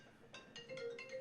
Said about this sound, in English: Both my phone and my computer are ringing all at the same time.